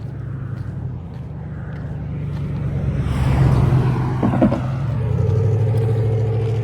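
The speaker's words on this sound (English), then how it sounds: "There's another car coming." A car passes by outdoors, its engine swelling from a distant hum to a louder whoosh near the middle and then holding a steady drone as it moves on, with no voices.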